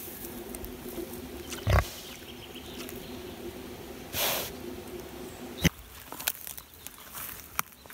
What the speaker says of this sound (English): Pigs seem really happy.